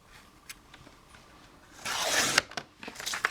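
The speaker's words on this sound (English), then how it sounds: "So, what I'm going to do is just cut this down a bit." Scissors cutting down a large botanical book page for a junk journal, with a few faint snips and then a louder stretch of paper rasping and rustling up close.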